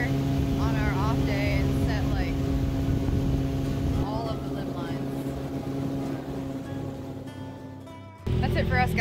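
A boat outboard motor drones steadily on a river, a constant close engine hum with a shift in tone near the end, while people talk over it.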